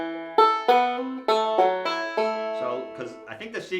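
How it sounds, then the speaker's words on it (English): Bluegrass banjo picks a modified Scruggs-style roll without the middle finger, bright plucked notes in a quick steady rhythm, close and alone with no voices. "We're going to take out that middle finger on beat 3, so it sounds like this."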